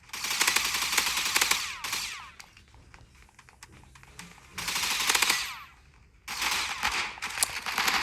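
Machine gun fire in the video game Hypershot comes in three long rapid bursts separated by quieter gaps of faint clicks and game noise, with no talk.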